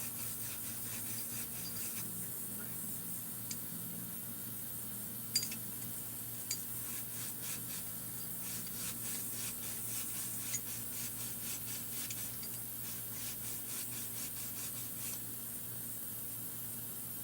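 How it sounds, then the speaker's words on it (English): A Scotch-Brite pad rubs a chainsaw crankshaft from a 266 crankcase smooth, giving a soft continuous scrubbing hiss with rhythmic strokes and a few small clicks, close up and without talk. "Just going to take a little bit of Scotch-Brite here to the crank,"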